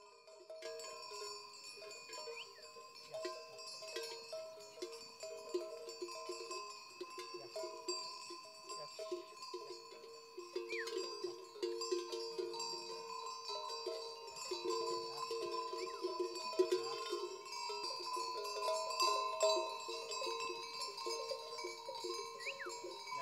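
Many small bells worn by a flock of sheep and goats tinkle and clank continuously in an irregular, overlapping jangle, moderately close, with no talking.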